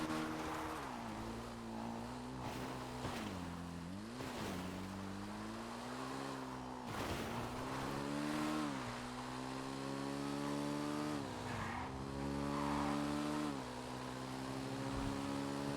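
A car engine drones and revs steadily with shifting pitch while driving off-road in a video game, continuous and fairly loud with no voices.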